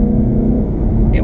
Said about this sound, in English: This is addictive with the growl of the engine from the front.